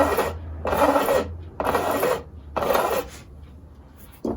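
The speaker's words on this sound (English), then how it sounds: "I'm just filing down these ends." A metal file rasps along sharp fret ends on a guitar neck in four firm, evenly spaced strokes with short pauses between, then a brief fifth stroke starts, close and clear with no voices.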